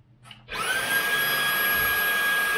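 A Dyson V8 cordless vacuum cleaner, just cleaned, starts up after a short quiet moment and then runs with a steady, smooth, loud whine and no pulsing or stuttering.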